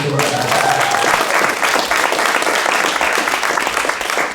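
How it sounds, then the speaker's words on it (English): An audience applauds for Philip, a dense, loud burst of clapping that holds steady throughout, with a brief voice at the very start. "Can I get an applause for Philip?"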